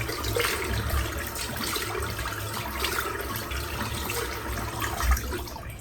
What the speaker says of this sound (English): A good cold water rinse.